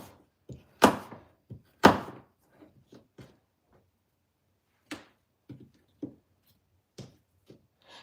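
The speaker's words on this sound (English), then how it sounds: "I'm just dicing up apple slices" Apple slices being diced with a knife on a cutting board, giving sparse, close thuds that come in irregular taps with pauses between them; the two early strikes are loudest.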